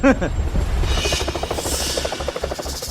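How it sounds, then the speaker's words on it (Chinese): A formation of fighter jets roars low overhead above a poor rural village at dusk, a dense continuous drone with a rising whine, while voices talk over it. "好像是那个战斗机群的声音"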